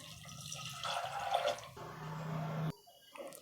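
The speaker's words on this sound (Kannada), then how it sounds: "ನಾನು ಇಲ್ಲಿ 1 ಕಪ್ ಕಡಲೆಬೇಳೆಗೆ 3ರಷ್ಟು ನೀರನ್ನು ಹಾಕ್ತಾಯಿದ್ದೀನಿ" Water pours and splashes into a pressure cooker holding soaked chana dal, a steady close trickle that stops abruptly, followed by faint drips and clinks in a quiet kitchen.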